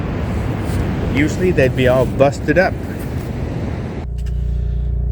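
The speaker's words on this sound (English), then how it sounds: "that noise you hear in the background is the generator" A generator runs steadily in the background at a beach camp, a continuous low hum and drone beneath a voice, growing more prominent near the end as the talking stops.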